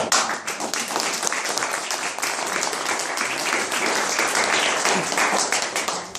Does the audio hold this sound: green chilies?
no